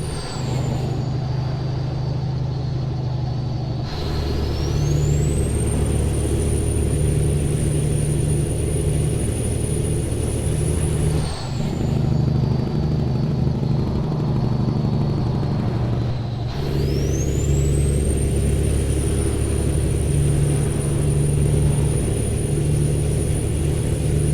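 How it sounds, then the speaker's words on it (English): International Eagle 9400i truck engine in American Truck Simulator, a steady deep rumble throughout, broken by three sharp air brake hisses that swell into rising whines, loud and close with no talking. "listen to the sound of American Truck Simulator with this beautiful engine"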